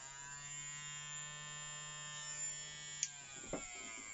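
Nash Pinpoint Hook Doctor electric hook sharpener running with a steady, fairly quiet high-pitched whine and faint grinding as a fishing hook is pressed against it, close up, with a couple of brief clicks near the end.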